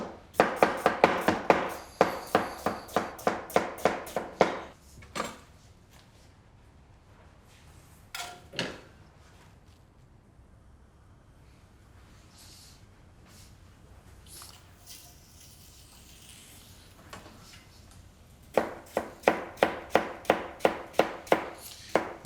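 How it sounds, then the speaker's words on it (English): Knife chopping leeks finely on a board for a chicken or fish stock: rapid, evenly spaced taps in a close burst, a pause with a few scattered knocks, then another quick run of chops. "leeks the same, cut very fine or relatively fine"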